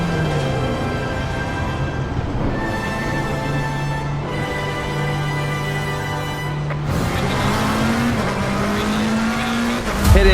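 Race cars roar steadily in Assetto Corsa Competizione at the start of a two-hour race, engine notes droning and rising through gears, with a brief tire squeal and a louder surge near the end.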